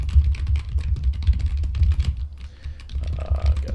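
Loud computer keyboard typing clacks in quick irregular bursts close to the microphone, a dense run of sharp key clicks with brief pauses over a low background hum.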